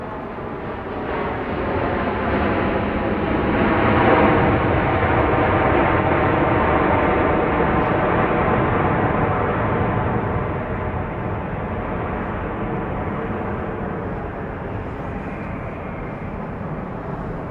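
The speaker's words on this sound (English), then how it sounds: "we've got another Southwest flight coming in here. This one arriving from Tulsa, Oklahoma." A Southwest Boeing 737-800 airliner arriving from Tulsa at Dallas Love Field at night gives a steady, loud, broadband jet roar that swells early and then holds for the whole stretch, with no voices.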